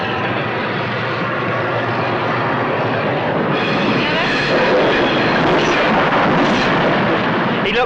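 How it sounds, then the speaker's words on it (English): A train passes by in a 1965 silent-comedy-style setting, a steady, dense, loud rumble holding throughout and swelling slightly as it goes, with no voices over it. "He looked and watched the train go by like that."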